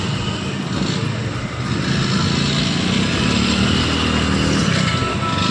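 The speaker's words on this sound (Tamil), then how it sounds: "வண்டி ஸ்டார்ட் ஆகிடுச்சு. அவர் வண்டி ஸ்டார்ட் ஆகலை, இப்போ தான் ஸ்டார்ட் ஆகிடுச்சு" A motorbike engine that has just started runs at a steady idle, a continuous loud mechanical drone with no break and no talking over it.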